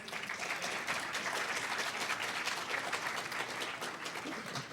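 An audience at a hacker conference lightning talk session applauds, a continuous even wash of many hands clapping, fairly faint and distant, with no speech over it.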